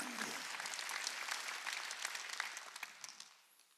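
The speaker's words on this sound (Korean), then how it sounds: "박수야. 제자들에게 남긴 거야." A church congregation at a Wednesday worship service breaks into dense, crackling applause, many hands at once, sustained for about three seconds before fading away at the end.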